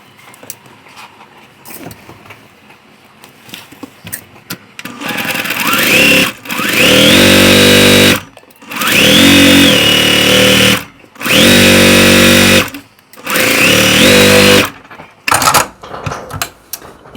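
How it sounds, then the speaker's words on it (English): A sewing machine stitches a row of a sampler quilt block in four loud, steady bursts of a few seconds each, separated by short pauses, after a quiet opening with faint handling sounds. "So I'm just going to sew this row together and the bottom row really quickly."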